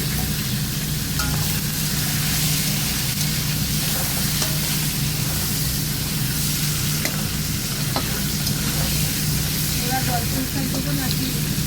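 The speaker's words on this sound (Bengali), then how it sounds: "মাছের মাথাগুলো ভেজে নিয়েছি" Fish heads frying in hot oil in a karahi with turmeric and salt, a loud continuous sizzle and hiss close by, with occasional stirring clinks and a voice speaking faintly beneath.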